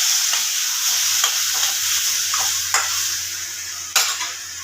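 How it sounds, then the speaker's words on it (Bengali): Spiced potato and cauliflower frying in a pan with water added, a steady hiss and sizzle with occasional spoon scrapes and clinks against the pot, no voices. "এবার আমি এর মধ্যে পরিমাণ মতো জল দিয়ে দেবো।"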